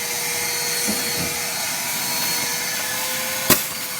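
Constant whining drone of a vacuum cleaner running steadily while cleaning a 1973 Chevy engine bay, with a couple of soft knocks and one sharp click near the end.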